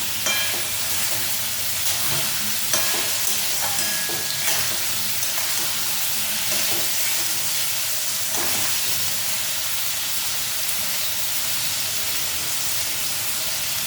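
New potato, kohlrabi and lentil bori fry in a pan with a constant loud sizzle, while repeated stirring strokes scrape through the hiss and no one speaks.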